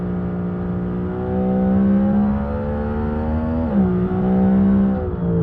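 Car engine held on the throttle in third gear in the Automation video game, a loud, steady droning note that rises slightly, dips briefly as the pitch shifts, then settles, with no talk over it.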